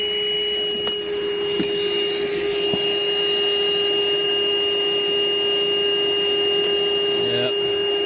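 A vacuum suctions a blocked sink drain trap indoors, a loud steady motor whine with strong constant tones running the whole time, occasional small knocks and handling noises.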